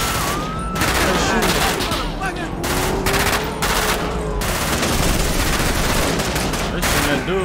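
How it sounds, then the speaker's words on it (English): Dense gunfire from a gang war in the video game GTA 5: rapid overlapping bursts of automatic and single shots crackle loudly and nearly continuously, with brief gaps and some speech mixed in. "they shooting that dude right there"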